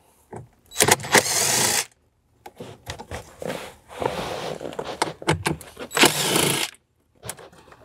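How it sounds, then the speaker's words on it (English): Two 7 mm screws being backed out from beneath the glove box of a 2011-2018 Jeep Wrangler JK, heard as close, loud bursts of mechanical driver whirring separated by short pauses and small clicks and rattles. "we're gonna remove our two 7 seven-mill screws from below the glove box"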